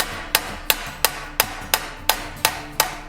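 Steady hammer blows on sheet metal worked beside a stake while shaping a Witcher wolf head, nine sharp ringing strikes at an even rhythm, close and loud with no talking.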